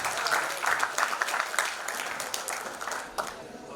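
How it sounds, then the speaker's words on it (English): An audience applauds to welcome a speaker onto the stage at an evening event: dense, steady clapping from many hands, fairly loud and continuous, thinning slightly toward the end. "So let's welcome Mr. Keshav Daga with a huge round of applause."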